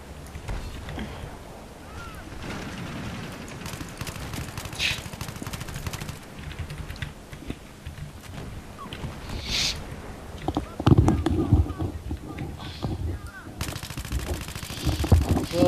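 Battlefield 3 gunfire on an island map, with bursts of automatic fire and scattered shots that are loudest in the second half, while players talk throughout.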